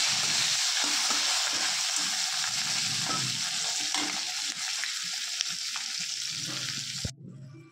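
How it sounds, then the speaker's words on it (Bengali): Capsicum and bay leaf frying in oil, a close, even sizzle with soft stirring clinks and scrapes throughout, ending abruptly in quiet. "তেজপাতা দিয়ে দেবো আর ক্যাপসিকামগুলো দিয়ে দেবো। তারপর ভাজতে থাকবো।"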